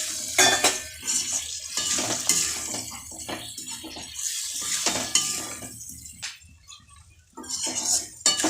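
Boiled jackfruit and potatoes are stirred and sautéed in a pan, giving repeated clattering scrapes and knocks of a spoon on metal over a low, continuous frying hiss, close up and without talk.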